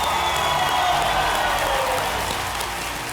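Studio audience on a KBC game-show set breaks into sustained applause with some cheering, steady and loud throughout, fading slightly at the end with no voices over it.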